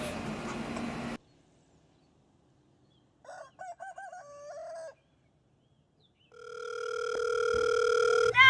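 A telephone dial tone comes in as a steady, loud electronic hum near the end, after a short burst of noise and some brief tonal beeps, with no voices.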